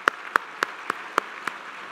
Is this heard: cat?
no